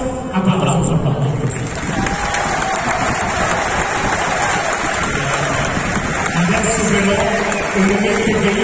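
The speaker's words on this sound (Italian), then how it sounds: "Allora, adesso, applauso." A large crowd of fans applauds and cheers at Paulo Dybala's presentation event at the EUR in Rome, a loud rain-like wash of clapping mixed with crowd noise and voices throughout.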